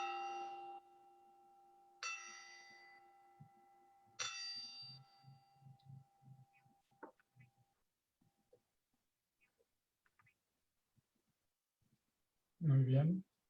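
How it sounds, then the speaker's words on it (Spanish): A gong is struck three times during a guided body-scan relaxation practice. Each clear, ringing strike decays slowly over the next, followed by soft, scattered murmuring and a brief louder sound near the end. "Vamos a tocar un gong."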